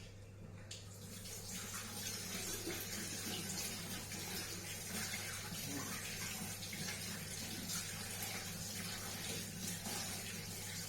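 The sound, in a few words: water running from tap while washing hands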